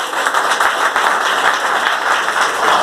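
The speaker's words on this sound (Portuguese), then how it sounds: "eu quero ouvir de você a melhor salva de palmas para o Senhor" Loud, continuous applause from a church congregation, dense rapid clapping sustained evenly throughout with a faint tonal hum in the room.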